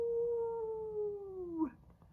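A single long, wavering dog howl, steady and mournful, gliding slightly downward before breaking off abruptly, with faint background noise afterward.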